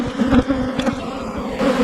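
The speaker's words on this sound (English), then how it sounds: "Lots of bees." A swarm of bees from wrecked beehives buzzes loud and close, a dense, continuous droning hum with individual insects swelling past.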